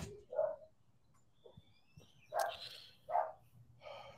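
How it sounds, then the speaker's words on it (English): Dogs barking in a few short separate bursts at moderate distance, with quiet pauses between the barks and some faint bird chirps in the background. "Sorry, the dogs are barking."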